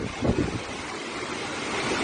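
Clean water rushing steadily at Nanuoya Falls waterfall, a broad continuous roar with a slightly louder surge near the start, no voices.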